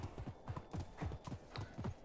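Horse hooves clip-clop in Medieval Dynasty, a medieval life-sim game, in a steady quick rhythm of paired thuds repeating through the whole stretch, close and clear with no talk over them.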